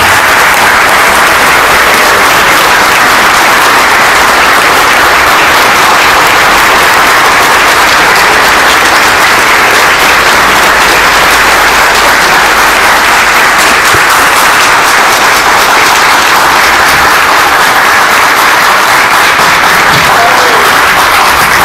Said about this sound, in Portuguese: E para quem peço mais uma calorosa salva de palmas como forma de agradecimento.